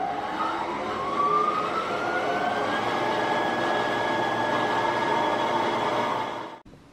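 An embroidery machine winding a bobbin gives off a steady motor whine whose pitch climbs gradually and then holds level, running continuously for several seconds before a faint click at the end.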